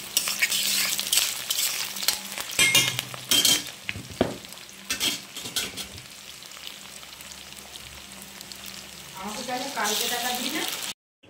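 Onion, cumin seeds and dried red chili fry loudly in a pan, with busy crackling sizzle and clattering stirring throughout, easing slightly before a final burst of sizzle.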